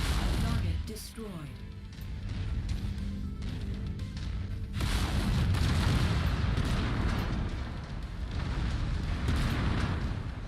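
Deep rumbling explosions fill the scene as a target is destroyed in the mech combat game MechWarrior 5, with a heavy low boom and sustained roaring debris, loud and dense, while a player talks.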